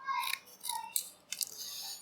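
Scissors snipping through micro SD card packaging up close, four or five crisp, quick cuts with faint rustling between them in an otherwise quiet room.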